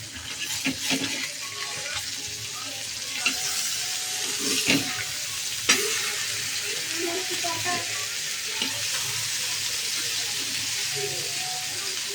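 Fish frying in a pan, cleaned beforehand for a home meal, sizzles steadily in hot oil throughout, with occasional louder spatters and clinks of utensils; a voice speaks briefly in the background.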